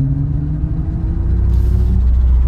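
A Mazda 6e electric car accelerates at full throttle with a low, steady motor hum and road rumble from inside the cabin, a faint whine rising slightly in pitch over a couple of seconds.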